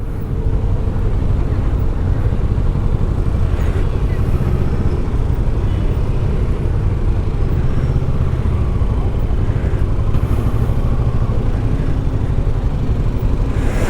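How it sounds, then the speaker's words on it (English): A 2020 Kawasaki Versys 650 twin-cylinder engine idles at a red light, giving a loud, steady low rumble close by that runs continuously throughout without a break. "I hear a bit of that burble or the rumble or whatever you want to call it."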